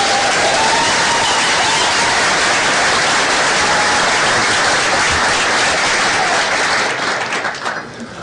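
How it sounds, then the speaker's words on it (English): An audience at a Google talk welcoming Anthony Bourdain bursts into dense, sustained applause that stays loud and even for several seconds before thinning out and fading at the end. "So please give a big round of applause."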